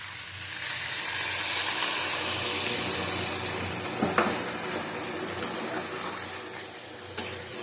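Warm water poured into a pan of frying fish with potol and potato curry, a steady loud sizzle and hiss of liquid hitting hot oil, with a couple of small clinks along the way.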